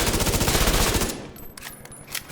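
A Tommy gun fires a rapid sustained burst in the shooter game Division 2 during an SMG tournament match, loud and dense for about a second, then scattered fainter shots and clicks follow.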